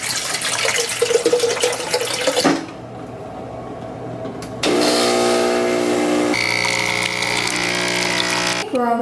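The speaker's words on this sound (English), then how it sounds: "Let's get some water in here." Tap water runs into a container in a hotel room, a steady broadband rush that stops briefly and then returns fuller and louder with a rising fill tone, with no talk over it.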